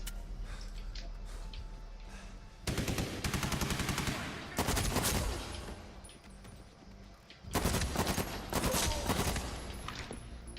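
Rapid automatic gunfire in the video game Medal of Honor Warfighter, coming in several loud sustained bursts with quieter gaps between them.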